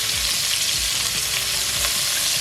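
Pork neck meat sizzles and caramelizes in a hot pan for an Irish stew, a loud continuous frying crackle with rhythmic scraping and stirring strokes, no voices.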